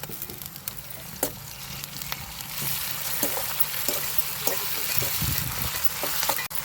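Onion, green chillies, curry leaves, tomatoes and ginger-garlic paste fry together in a pan for a tiny bitter gourd curry, giving a loud, continuous sizzle with scattered scraping taps of stirring and no voices.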